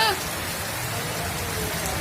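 Heavy rain pours down in a steady, dense hiss, loud and continuous throughout with no pauses.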